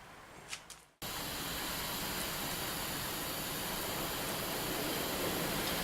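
A storm outside brings heavy rain that bursts in abruptly and then holds as a loud, steady, broadband hiss with no break or letup.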